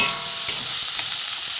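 Potatoes frying in a covered pan, a loud, close, continuous hiss of sizzling oil with faint crackles underneath, no voices.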